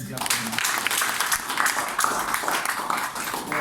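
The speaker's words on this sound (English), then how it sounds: "Let's clap for him." A crowd claps and cheers, a dense burst of applause with voices mixed in throughout.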